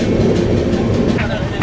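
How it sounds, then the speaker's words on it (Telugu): A passenger express train crosses the Brahmaputra river on a road-cum-rail bridge, with a loud, close, continuous rumble and rattling clatter of the carriages. "మనమైతే బ్రహ్మపుత్ర రివర్ అయితే క్రాస్ చేస్తున్నాము. ఇది రోడ్కమ్ రైల్వే బ్రిడ్జ్."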